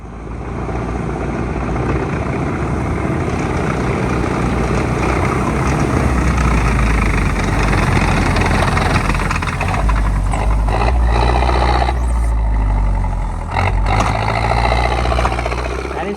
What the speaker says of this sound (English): I love riding tanks in Russia.